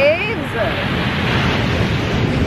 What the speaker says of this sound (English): These waves.